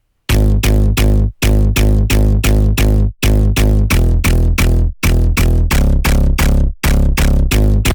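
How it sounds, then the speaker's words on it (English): A Hard Plug bass preset built from three sine waves and a clap sample, heavily distorted and compressed, pounds out loud, close, rhythmic stabs in groups of three and four with brief gaps, alone with no voices. "it's basically 3 sine waves and a clap sample with heavy distortion and compression"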